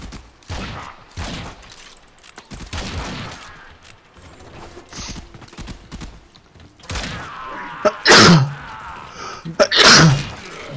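Two sharp sneezes burst out close to the microphone about two seconds apart, set against quiet clicks and mechanical rattles from a Warframe game session.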